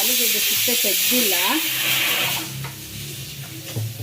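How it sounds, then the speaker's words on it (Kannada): Onion and coconut frying in oil on the stove, a steady broad sizzle for the first couple of seconds, then quieter crackling, with a voice talking over it. "ನಾನು ಇವಾಗ ಇದನ್ನೆಲ್ಲ ಎಣ್ಣೆನಲ್ಲಿ ಫ್ರೈ ಮಾಡ್ಕೊಳ್ತೀನಿ"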